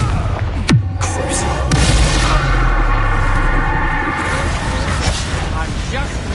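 A Confringo fire spell from the Hogwarts Legacy video game bursts in a few sharp booming blasts amid busy combat noise, with voices speaking over it.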